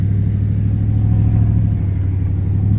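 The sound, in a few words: Ford F-150 Lightning TT engine revving on dyno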